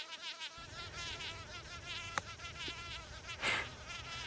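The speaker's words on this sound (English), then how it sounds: "A gazillion mosquitoes." Mosquitoes whine and buzz close by on a golf course in New York City, a steady high insect drone with a faint thump and rustle midway.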